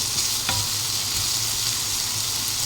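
Garlic frying in a pan, a dense steady hiss of hot oil close by with a single sharp stirring scrape early on, continuous throughout with no speech.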